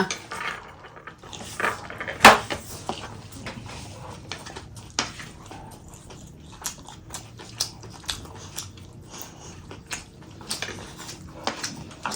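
A spoon clinks and scrapes against dishes while someone eats Indian street food. Sharp metallic taps come at irregular intervals over a low clatter, close by, with no talking.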